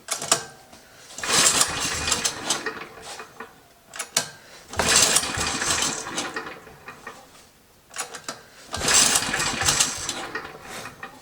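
A Motor Sich MB-6 petrol engine is cranked with the choke closed and a little throttle, giving three separate bursts of rattling, churning mechanical noise with pauses between them, none catching into a steady run.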